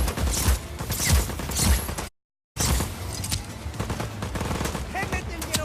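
Automatic gunfire in the video game Just Cause 4, dense rapid bursts that rattle on loudly, broken by one short gap of silence, with shouted voices mixed into the action.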